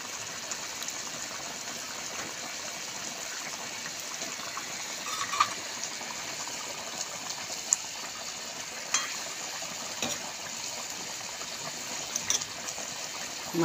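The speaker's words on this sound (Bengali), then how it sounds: "টকবার টকবার টকবার টকবার করে ফুটছে।" Fish curry boiling in a pot, a steady soft bubbling simmer with faint occasional pops, close and continuous, no talking.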